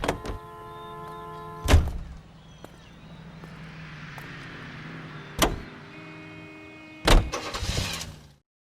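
A car drives in the video game L.A. Noire: a low, steady engine hum runs throughout, broken by three sharp, loud bursts spaced a few seconds apart. No one speaks.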